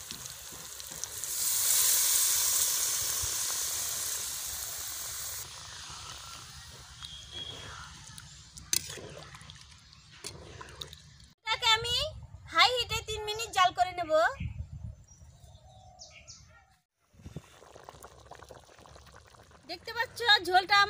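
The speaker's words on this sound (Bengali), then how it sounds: "এবার আমি দিয়ে দিচ্ছি ঝোল" Gravy poured into a pan of fried fish curry, a liquid pour over sizzling frying that later settles into bubbling, with a voice talking over the cooking.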